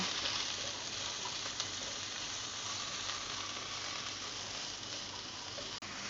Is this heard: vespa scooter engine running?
no